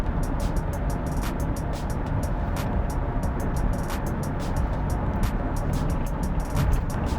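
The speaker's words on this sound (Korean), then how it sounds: "현재 80km로 주행 중입니다. 도로는 시멘트 도로고요." Inside a Chevrolet Bolt EV cruising at 80 km/h on a cement road, a steady broadband road and tire roar fills the cabin, broken by rhythmic ticking thumps as the tires cross pavement joints.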